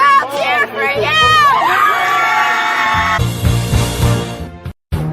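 A crowd at a high school hockey game between St. Louis Park and Holy Angels erupts in loud cheering, with children's shouts and whoops. The noise is busy and sustained, and a brief dropout comes near the end.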